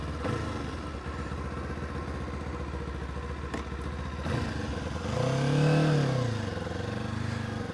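Royal Enfield motorcycle engine on a road test ride, a steady mid-pitched running drone that swells into a louder revving surge partway through, close and continuous with no talking.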